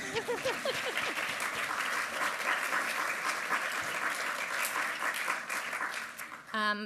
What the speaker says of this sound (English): we'll do a round of applause for Ben